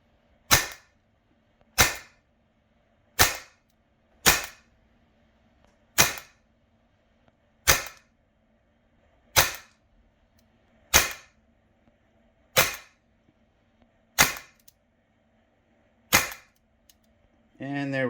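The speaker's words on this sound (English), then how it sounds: "Now I'm going to do a whole bunch of shots here just to see what we kind of get." Heckler & Koch HK416 CO2 BB rifle firing about twelve single shots, each a sharp, loud pop spaced a second or so apart, with quiet gaps between.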